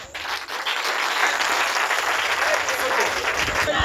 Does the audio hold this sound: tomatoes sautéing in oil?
no